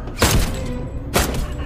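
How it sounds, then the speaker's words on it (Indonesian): Two heavy, abrupt shots ring out about a second apart as a man fires at a robot in the film Jung_E, each a loud, close blast fading into a dull background rumble. "Samsul yang sudah habis kesabarannya pun menembak robot itu"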